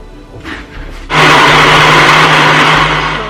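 A blender roars to life after a brief pause, running loud and steady at close range.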